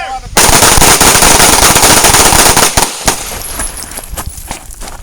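Rapid pistol fire at an outdoor combat shooting workshop, a loud fast string of shots fired as quickly as possible that stops abruptly after about three seconds, followed by fainter scattered pops and background voices.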